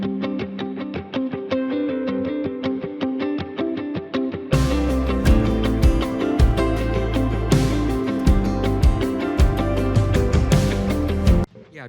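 Plucky palm-muted electric guitar tracks processed through an OTT plugin chain play a quick, even rhythm of short muted notes. A much fuller, heavier mix crashes in midway, then cuts off abruptly near the end.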